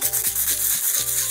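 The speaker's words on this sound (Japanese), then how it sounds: "だから100均で買ったヤスリを使って削っていきます。裏をこうやって削っていきます。" A 100-yen-shop file rubs across the back of a smooth, clear 2 mm plastic sheet in circular strokes, giving close, continuous scratchy rasping with a few rhythmic stroke changes and no talking.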